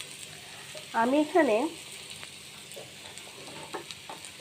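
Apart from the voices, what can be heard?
food frying and being stirred in a pan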